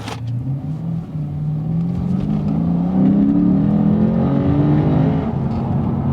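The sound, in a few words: 2015 Lexus RC F engine accelerating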